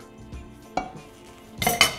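Drained pasta tipped into a pot of melted cheese, giving a few wet clatters and a metal scrape of pot and utensil, close and loud, ending in a louder clanking burst.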